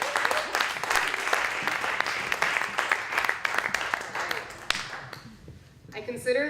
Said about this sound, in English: How about a huge round of applause for Akwi Unji?